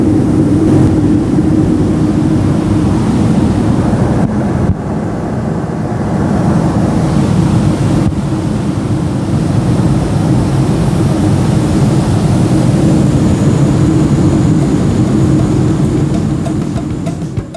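Cabin of a Boeing 737-300 descending into Osh, a loud steady low-pitched engine and airflow rumble filling the cabin, continuous with slight shifts in tone and no voices.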